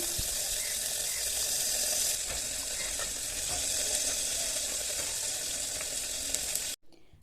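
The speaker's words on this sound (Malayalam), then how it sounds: "ഇനി ചൂടായ എണ്ണയിൽ ഇട്ടിട്ട് നമുക്കിതൊന്ന് വറുത്ത് കോരിയെടുക്കാം" Loud, continuous sizzling of tender jackfruit frying in hot oil, steady and close, cutting off abruptly just before the end.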